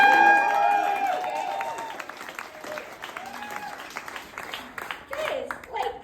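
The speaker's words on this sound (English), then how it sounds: "now everyone cheer very loudly for us" Crowd at a union launch party breaks into applause and cheering, loud at first with whistles and shouts, then thinning to scattered clapping and voices before a brief swell near the end.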